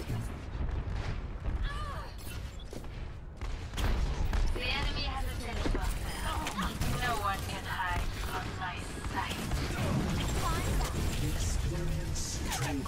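Dense, continuous gunfire and booming blasts in Overwatch fill a busy battle soundscape, loud and sustained throughout.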